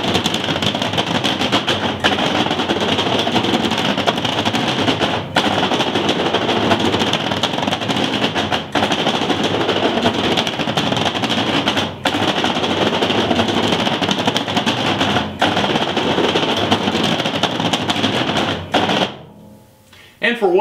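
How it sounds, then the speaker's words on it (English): A dust collector's flapper motor runs to clean the inside of the filter pleats: a loud, steady mechanical rumble and rattle with a few short dips, cutting out abruptly near the end. "you're going to hear the flapper motor run that is cleaning off the inside of the filter pleats"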